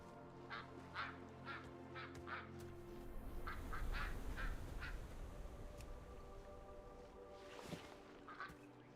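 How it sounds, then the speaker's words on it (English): Ducks quack in World of Warcraft Dragonflight, a run of short nasal calls at a steady pace, then a second cluster of calls over a low rumbling ambient bed. "Happy Duck. Quack, quack."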